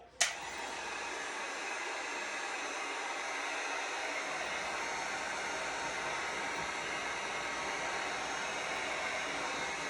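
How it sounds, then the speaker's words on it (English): A hair dryer blows steadily and loudly, close up, drying paint on a rustic blueprint craft project; it switches on with a sharp click at the start and runs continuously with no talking. "let's get that dryer out and let's make some magic happen and do some drying"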